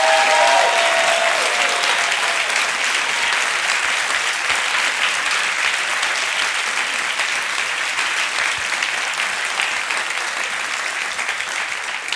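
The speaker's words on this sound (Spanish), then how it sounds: "Aplauda al Rey de Gloria." A church congregation claps loudly and continuously in dense, sustained applause that fills the room and fades only slightly toward the end.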